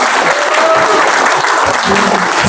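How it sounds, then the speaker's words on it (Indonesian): Loud, dense applause from a seated audience at a community outreach meeting on workers' social security, a steady wash of many hands clapping at once, close and sustained, with faint voices mixed in. "Tepuk tangan dulu untuk Bu Klusi."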